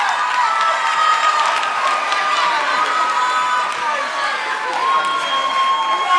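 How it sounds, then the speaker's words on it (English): At a senior dance awards announcement at a national dance competition in Phoenix, a large crowd claps and cheers steadily, with whoops and shouting mixed into the continuous roar. A voice is heard faintly within the noise. "Give them a round of applause"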